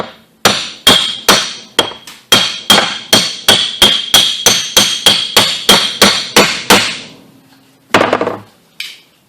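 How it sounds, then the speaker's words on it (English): Hammer tapping a u-joint cap on a two-piece driveshaft, about eighteen sharp metallic strikes in a steady rhythm, loud and close, ending with a couple of separate knocks after a pause. "I'm just going to turn it upside down like this and just gently tap on it."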